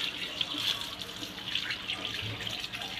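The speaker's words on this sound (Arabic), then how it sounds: "اغسل بقى الطماطم ديت" Tap water runs steadily into a kitchen sink as tomatoes are washed under it, a continuous close splashing hiss with small shifting splashes and no talking.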